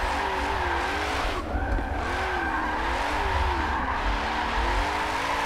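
Tires squeal continuously as a car drifts and slides through turns in a racing video game played on a Logitech G920 wheel, with a constant loud engine drone under wavering, screeching tones.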